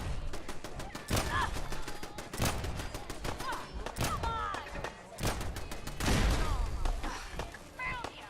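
Gunfire in Fallout 4 while blasting low-level hostiles in a hospital, a series of loud sharp shots and bursts spaced through the clip, with someone talking between and over them.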